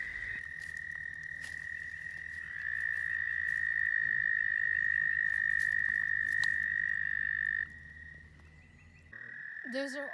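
Frogs croak in a steady, loud chorus at close range around a trailer, a continuous trilling drone that holds for most of the stretch, then drops off briefly before resuming.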